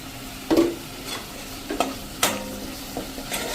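A spiced oil tempering with tomato gravy sizzles steadily in a pan, punctuated by several loud stirring scrapes and clinks at irregular intervals.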